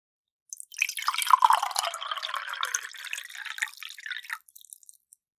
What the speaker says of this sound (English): here I am again, with your cup of water. Let me pour it for you.